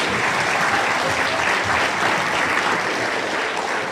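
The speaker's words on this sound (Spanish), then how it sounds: "Un fuerte aplauso una vez más a los niños" Church audience applauding children at a united worship service in Santa Cruz, a dense, even burst of many hands clapping that holds steady throughout.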